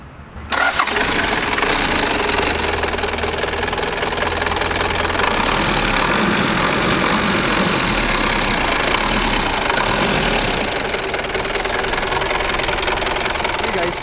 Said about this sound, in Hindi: 24 volt 3400 CC inline 6 cylinder diesel engine जो कि टर्बोचार्ज्ड है इसमें इंस्टॉल है।